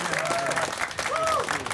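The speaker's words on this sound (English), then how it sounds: "Round of applause." Brief burst of audience applause at a press conference, a dense, even clatter of clapping with faint voices mixed in.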